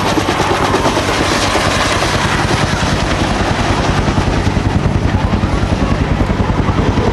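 A Kaman K-MAX helicopter with counter-rotating intermeshing main rotors and no tail rotor, heard loud and close at an outdoor rotorcraft show, giving a steady, dense rotor thump and turbine roar throughout.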